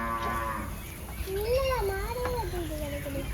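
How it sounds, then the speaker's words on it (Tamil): A cow moos in a long, wavering low call over steady village outdoor background noise, with a brief higher animal or child sound just before. "அதையா மாடு கூப்பிடுது போறியா?"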